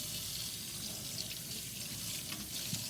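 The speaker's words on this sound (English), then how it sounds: "I'm gonna bring it to the sink, and I'm gonna rinse it off" Water from a kitchen sink tap runs steadily over a roasted habanero pepper being rinsed, a constant hissing splash with slight changes as the pepper moves under the stream.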